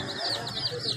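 A brief burst of high, chirpy peeping from young chickens at a wholesale bird market, close and fairly loud.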